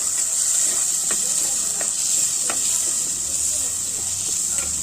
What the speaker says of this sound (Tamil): இப்போ நம்ம வெங்காயத்தை போட்டுக்கிறோம். நல்லா வதக்கிக்கோங்க.